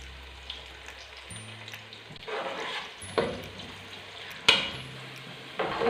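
Onions frying with whole garam masala, black cardamom, cloves and black peppercorns in a pot, a soft steady sizzle broken by periodic louder stirring scrapes, with brief tonal hums in the background.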